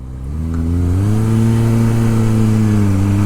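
An engine revs up near a crowded roadside parking area in rural Chichibu, Saitama, Japan, climbing in pitch and holding loud and steady for about three seconds.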